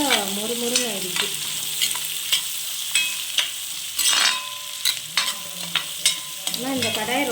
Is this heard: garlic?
yes